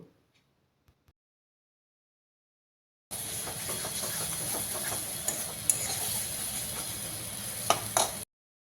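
Spice paste sizzling and frying steadily in a pan, with occasional stirring scrapes, starting abruptly after a few seconds of near silence and continuing loud and close.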